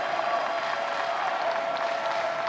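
A baseball crowd at an extra-innings elimination game in Tallahassee applauds and cheers in a steady, dense wash of clapping that holds evenly throughout.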